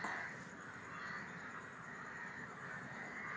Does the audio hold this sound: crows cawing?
yes